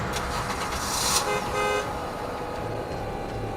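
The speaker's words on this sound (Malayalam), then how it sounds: "പിന്നിൽ നിന്നും ചീറിപ്പാഞ്ഞു പോകുന്ന കാറിൻ്റെ ഹോണടിയാണ് അവൾ കേട്ടത്" A car horn blares as a speeding car rushes past, a short honk over loud roaring road noise that fades slightly afterward.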